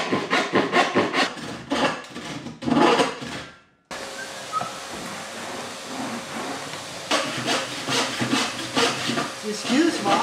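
Hand sawing of wood during a building job, rhythmic rasping strokes in close bursts, first a quick series, then a short pause, then steadier sawing that continues alongside faint background sounds.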